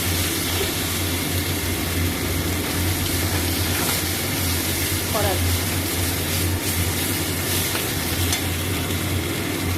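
Mustard paste stirred into vegetables frying in a pan, a continuous close sizzle with scraping stir strokes and a low steady hum underneath, loud and even throughout.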